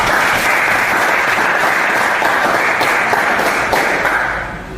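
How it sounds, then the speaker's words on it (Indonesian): An audience claps together in sustained, even applause that fades slightly toward the end. "Tepuk tangan dulu untuk kita."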